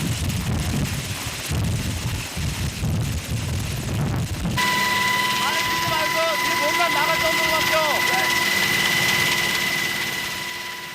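A military helicopter used for rappelling training roars loudly with heavy rotor and wind noise, then gives way to a steady high engine whine and tonal hum; a narrator talks over it.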